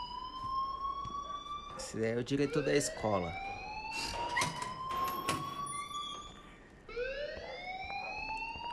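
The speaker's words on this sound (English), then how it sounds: "please turn off that alarm since that's your job" A fire alarm in the Life is Strange video game wails with rising, repeating electronic tones over a steady background while people talk.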